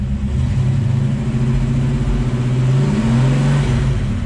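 A Pontiac 400 V8 fitted in a 1954 Ford F100 truck runs steadily nearby, its low rumbling drone holding an even speed with slight RPM wavers throughout, no voices present.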